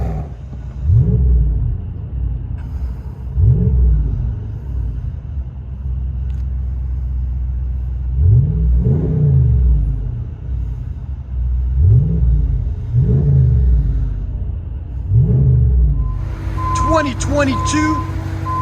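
A 2022 RAM Power Wagon with a 6.4L HEMI V8 and a muffler delete revs repeatedly, deep rumbling exhaust swelling and falling in a steady series of blips, loud and close, with a faint beeping near the end.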